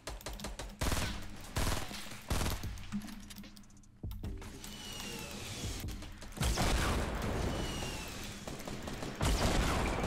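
Gunfire in a Fortnite Battle Royale fight comes as loud, separate bursts of shots with short gaps between them, punctuated by sharp impacts and mechanical clatter.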